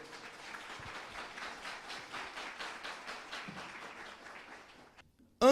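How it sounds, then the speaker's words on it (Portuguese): A church congregation claps together, quietly, in a rhythmic series of soft, evenly spaced rounds of clapping that fade out near the end, followed by a sudden brief loud noise. "Vamos aplaudir a palavra do Senhor?"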